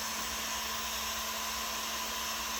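Steady, close whir of a heat gun blowing hot air onto a carbon fiber golf shaft to soften its epoxy, a constant even hum with no breaks.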